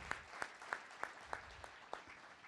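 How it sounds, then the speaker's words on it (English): A small audience gives faint, distant applause for astronauts at a swearing-in ceremony, sounding as a handful of sparse, evenly spaced claps over a brief moment. "How about a big round of applause for Andrew and Ricky"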